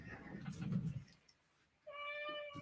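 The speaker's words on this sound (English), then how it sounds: "Our kitty is in the room." A pet cat in a room gives a single clear meow near the end, following a moment of quiet after a person speaks nearby.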